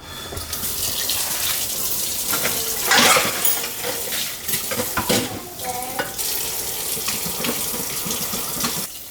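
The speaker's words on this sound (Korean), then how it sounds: "제가 왜 설거지를 하고 있냐면요" Dishes are washed at a kitchen sink under a running tap, with steady water flow punctuated by clinks, scrubbing and splashes that swell louder around the middle, close and alone without talk.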